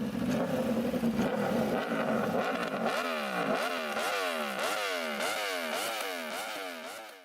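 An Aprilia RSV4 superbike's V4 engine holds a loud, steady roar at first, then is blipped through a rapid series of sharp rev rises and falls, heard up close with no talking.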